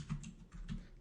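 Quiet, close keystrokes on a computer keyboard as router configuration commands are typed, a quick irregular run of soft clicks with no talking.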